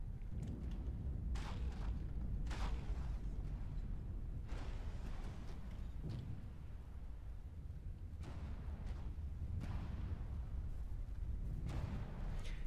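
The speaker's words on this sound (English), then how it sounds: "The white ship has internal explosions constantly at the back." Repeated muffled explosions deep inside a ship in the naval combat game From the Depths, a string of booming bursts every second or two over a continuous low rumble, fairly quiet and with no one talking.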